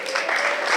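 Audience at a school ceremony breaking into applause, a brief, dense burst of clapping from a crowd of students and guests.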